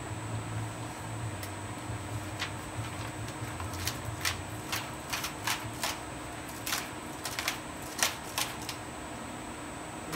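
A 10-year-old Mathias die kiss cuts .010" Piedmont polyester film on a zero-make-ready setup, giving faint, quick clicks and ticks that grow denser toward the end over a low mechanical hum.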